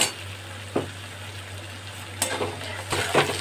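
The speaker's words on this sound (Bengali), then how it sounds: "আমার পেঁয়াজ ক্যাপসিকাম টমেটোগুলো খুব ভালো করে ভাজা হয়ে গেছে" Onion, capsicum and tomato sizzle steadily in a hot pan while a spatula stirs them, scraping the pan a few times over the continuous frying hiss.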